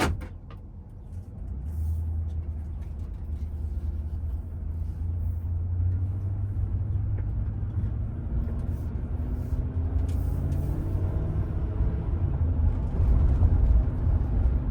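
Inside a Ford Bronco while driving, with a low steady engine and road rumble throughout, rising slightly over time, plus a few faint interior clicks and no talking.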